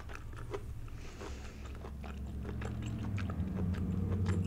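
A button mushroom is bitten and chewed close to the mic, soft wet squishes and small crunches in an irregular rhythm over a low background hum.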